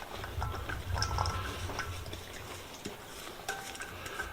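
Hands mix a raw meatball mixture with peppers and onions, giving soft, quiet squishing and stirring sounds close by, with a few faint clicks and taps and no speech.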